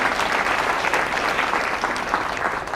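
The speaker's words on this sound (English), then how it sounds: "Give him a round of applause." A crowd claps steadily and evenly throughout, a dense sustained round of applause with no pauses.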